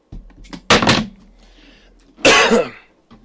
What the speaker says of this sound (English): so you guys don't have to hear me cough